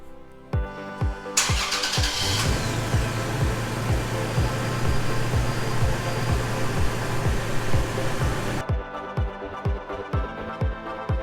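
A Toyota Tacoma pickup truck cranks over with a rhythmic starter whir and catches. Its engine runs at a steady idle for several seconds, then the ignition is cut and the starter-like chugging returns briefly. The sound is close and there is no talking.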